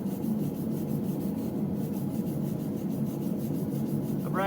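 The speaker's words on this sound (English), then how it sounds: "you take a brass brush and you brush the steel" A brass brush scrubs steel in a steady, close, rasping rub that continues without pause, fairly quiet and alone.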